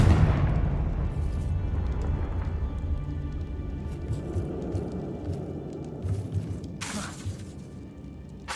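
A Confringo spell explosion in Hogwarts Legacy: a loud booming blast with rumbling debris that slowly decays into crackling and scattered sharp bursts, with no voices.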